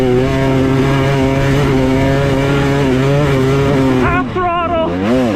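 A 2023 Husqvarna TX300 dirt bike engine revs loud and close, holding a steady high drone before the pitch swoops up and down in quick throttle blips near the end.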